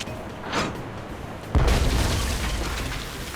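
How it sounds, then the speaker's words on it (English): Cannon fire in the Tales of Monkey Island video game: quiet rustle, then a single deep booming blast that decays into a long rumbling tail. "Nothing like a deafening cannon discharge to clear the mind."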